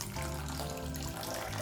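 Water is poured into a bowl of about 100 grams of semolina to soak it, a short, steady splashing and trickling close by.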